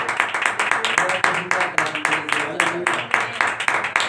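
Brisk rhythmic clapping from a church congregation at a healing prayer service, steady regular beats like an audience keeping time, with voices faintly mixed in.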